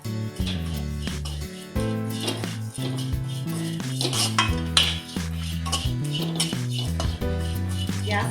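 Grated coconut being stirred as it roasts in a pan over a gas flame for a Kerala chickpea curry, with a spoon clinking and scraping against the pan in a steady rhythm over soft sizzling, close and fairly loud.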